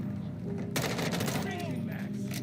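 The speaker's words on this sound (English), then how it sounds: "Okay, so I'm looking for gunshot." Gunfire in a shooting video game breaks out as a sudden dense burst of rapid shots layered over a steady background drone, with a person talking underneath.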